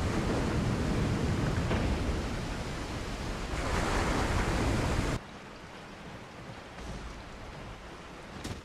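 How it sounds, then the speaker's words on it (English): In Resident Evil 4, a waterfall opens with a loud, broad roar of rushing water that cuts down abruptly to a quieter, steady flow partway through. "This will open the waterfall."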